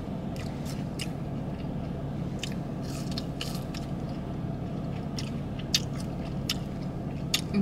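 Close, quiet mouth sounds of someone biting and chewing a gyro with American deli fries, with soft crunches and wet smacks over a low steady background and no talk.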